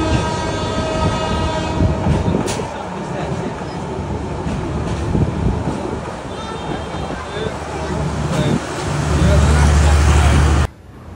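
The Parjotak Express pulls out of Cox's Bazar station with a continuous heavy rumble and clatter, muffled voices around, and a loud sustained horn blast near the end before it cuts off abruptly.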